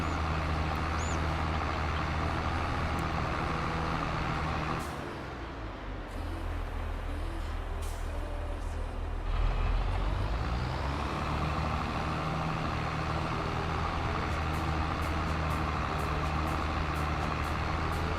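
Trucks in Farming Simulator 22 rumble steadily with a continuous low engine drone that briefly dips and shifts partway through, joined by faint, rapid high ticks toward the end; no one speaks.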